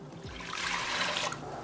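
Four cups of water pour into a metal pressure cooker for a whole chicken curry, a close, continuous splashing trickle that swells in the middle and eases off toward the end.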